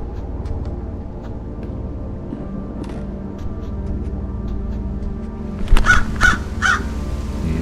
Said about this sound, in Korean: 까마귀.